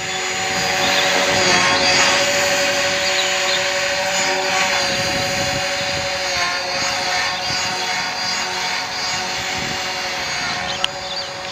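A 450 Pro RC helicopter with a TT tail flying outdoors in possible rain makes a continuous, loud, high whine whose pitch wavers slightly as it manoeuvres nearby, with a brief click near the end.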